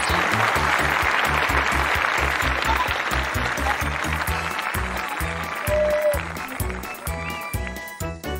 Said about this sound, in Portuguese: Aplausos, ele merece